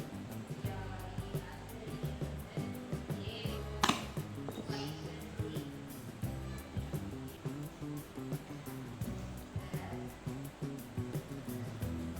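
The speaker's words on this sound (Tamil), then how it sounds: "இப்படி அரைக்கிது பாருங்க." A wet grinder grinds appam batter with a steady churning, swishing whir and a rhythmic pulse, moderately loud and close throughout, with one brief sharp clack partway through and no talk.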